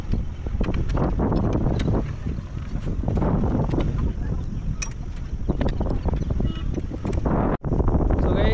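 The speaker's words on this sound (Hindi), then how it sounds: "हवा तो बहुत तेज चल रहा है, रुकने का नाम नहीं लगा" Strong, steady wind buffets an outdoor microphone during a roadside tyre job on a motorbike, with a dense, continuous roar that never lets up and one brief dropout near the end.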